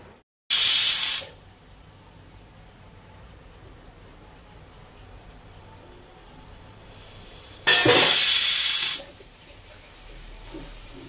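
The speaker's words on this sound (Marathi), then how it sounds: "आता कुकराचे धाकणे लावन ताका 4 शिटयो काढून घेवपाक जाय।" A pressure cooker cooking dal releases two loud hissing steam bursts, each lasting about a second, separated by a long quiet stretch of low background noise.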